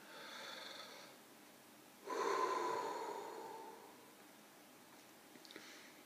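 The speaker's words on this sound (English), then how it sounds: "Take a deep breath" A slow, deep breath drawn in and let out during a tapping routine for a headache: one long, close inhale starting about two seconds in, followed by a softer exhale that trails off, with no talking.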